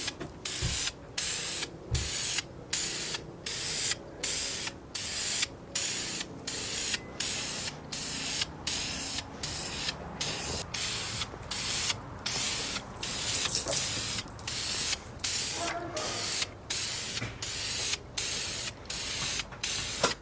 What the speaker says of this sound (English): So there's the first light coat of primer.